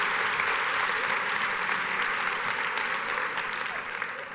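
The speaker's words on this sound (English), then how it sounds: "big round of applause again for Susan and Ashley." A large keynote audience of several hundred administrators in a Las Vegas venue applauds steadily, a dense, sustained wash of clapping that holds throughout and eases slightly toward the end, with no speech over it.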